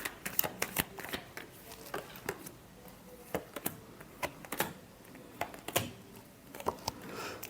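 Tarot cards being shuffled by hand, a run of crisp irregular riffling and slapping taps, close and fairly quiet, with no talk.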